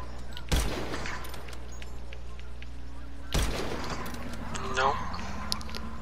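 Precision rifle gunfire: two sharp, loud shots a few seconds apart, each cracking out above a steady low hum and background ambience, with brief tonal whines between them.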